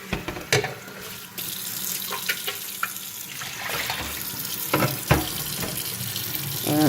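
Tap water runs and splashes as a PUR water filter pitcher is rinsed out in a sink, with a steady close stream broken by irregular sloshes and clunks of the pitcher under the faucet.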